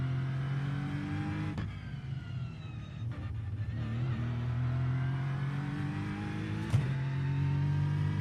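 A GT3 or Porsche Cup race car engine in iRacing holds a steady drone at partial throttle, with brief lifts and shifts breaking the note. It sounds close and continuous, with no talk over it.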